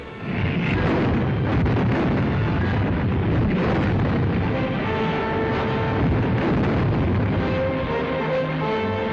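Artillery gunfire and explosions from the 1937 Battle of Shanghai, a dense, continuous roar of booms and bursts at steady high loudness with no talk, heard on old archival newsreel sound.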